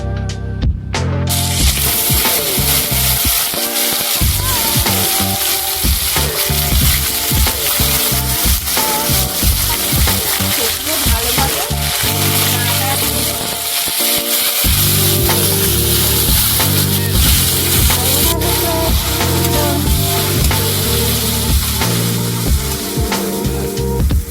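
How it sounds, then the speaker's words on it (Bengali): Minced chicken pieces dropped into hot oil for chicken and banana-stem pakora, frying with a loud, steady sizzle and crackle throughout, with brief dips and occasional stirring clatter. "তেলটি ভালোভাবে গরম হয়ে এসেছে আগে থেকে কয়ে রাখা মাংসের কুচিগুলো গরম তেলের মধ্যে দিয়ে দেবেন"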